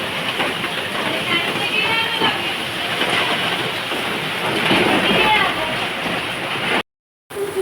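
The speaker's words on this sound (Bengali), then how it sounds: "দেখুন অনেক বৃষ্টি হচ্ছে ছিটা মেরে পুরো" Heavy rain pours steadily with a rushing, wind-driven hiss, loud and continuous, broken briefly by a moment of silence near the end.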